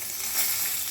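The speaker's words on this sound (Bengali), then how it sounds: "এবার গ্যাসের ফ্লেম লো টু মিডিয়ামে রেখে আমি ফোড়ন ভেজে নিচ্ছি" Bay leaf, a dried chilli and whole garam masala tempering in hot oil left over from frying fish, a dense continuous crackling sizzle, close and fairly loud, with no pauses.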